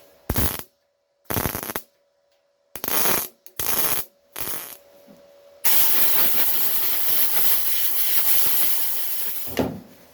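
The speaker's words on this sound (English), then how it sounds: "With the welder turned down, we can fill that gap" MIG welder turned down to fill a gap in a Ford Escort MK1 door pillar, with several short crackling bursts broken by pauses, then one long steady sizzle of close, loud welding.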